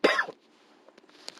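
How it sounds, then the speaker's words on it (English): One sharp, loud cough bursts out at the start, then trails away into quiet room tone. "And my apologies for the cough"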